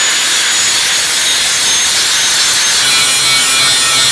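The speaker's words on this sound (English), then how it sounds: "I'm putting a brand new flap disc on my grinder for this one." A new flap disc on an angle grinder flattens welds on a steel trailer fender, giving a loud, steady, harsh grinding roar that runs unbroken for a few seconds with no talk.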